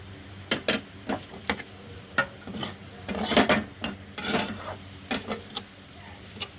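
Onion, green capsicum and cabbage filling for momos is stirred in a pan, giving irregular sharp clinks and scrapes of a utensil against metal in quick bursts over a soft background hiss.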